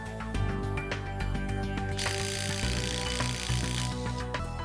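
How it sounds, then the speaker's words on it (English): An impact driver rattles in rapid hammering bursts while tightening shear bolts on a cold-shrink URD splice connector, with sharp clicks and a continuous mechanical buzz close by. "we will use an impact driver. Tighten bolts until the bolts shear off"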